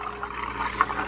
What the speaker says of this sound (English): then I'm going to add about 2 cups of filtered water